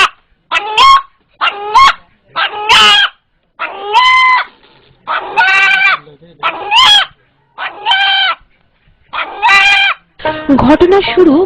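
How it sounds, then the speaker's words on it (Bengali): A rooster crows in a series of loud, close bursts separated by short pauses, its calls said to resemble the word Allah, with a rougher squawk at the end. "মোরগটি আল্লাহ আল্লাহ শব্দে ডেকে ওঠে"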